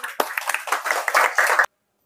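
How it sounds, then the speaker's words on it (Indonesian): An audience claps briefly at a scout leadership training session, a short burst of quick, close hand claps that cuts off abruptly into silence. "Oke, tepuk tangan."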